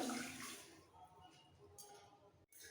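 A cup of water poured into a pan holding half a cup of sugar to make syrup for chhena poda, a rushing splash loudest at first and then thinning to a softer trickle, with a brief clatter near the end.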